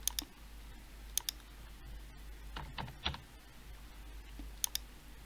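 Sparse clicks from a computer keyboard as someone types in a value while building a question, a few quiet isolated keystrokes with pauses between them over a low hum.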